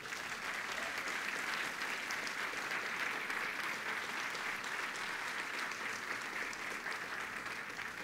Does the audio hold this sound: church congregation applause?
yes